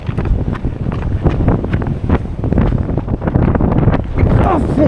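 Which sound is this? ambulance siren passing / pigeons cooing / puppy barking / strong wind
strong wind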